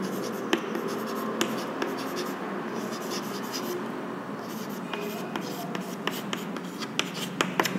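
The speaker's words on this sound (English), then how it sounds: "I'll write it here." Chalk or marker writing on a board during a fluid dynamics lecture produces quick scratchy strokes and sharp taps in an irregular rhythm, close and clear, with a faint room hum beneath.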